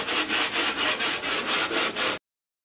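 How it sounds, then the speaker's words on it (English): A dried drywall mud patch gets a light hand-sanding. About eight steady back-and-forth strokes give a close, rhythmic scratchy rasp that stops abruptly after two seconds. "Now I'm going to do a light sand on it and we're going to see what we're left with."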